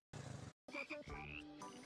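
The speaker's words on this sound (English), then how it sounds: "I heard frogs and started running." Loud croaking from frogs that are not real ones, in a short burst, a brief pause, then a longer run of harmonic croaks and calls, with no talking.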